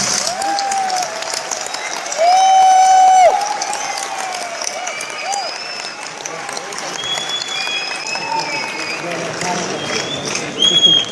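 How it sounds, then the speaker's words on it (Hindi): At an RCM business seminar, an audience claps hard and continuously, mixed with cheers, whoops and high whistling shouts, loud and close throughout with voices rising above the clapping. "आप इसके लिए जी भर के तालियां बजा सकते हैं, हो अल्लाह कर सकते हैं।"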